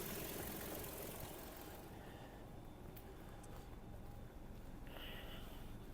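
A 2008 Volkswagen Golf Plus with a 1.6 MPI petrol engine idles quietly and evenly, a soft steady low hum with no misfire or stumble.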